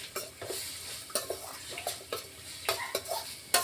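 A spoon scrapes and clatters in a pan while carrots with mint and curry leaves are stirred, making irregular metallic knocks over a faint sizzle. No voices are heard.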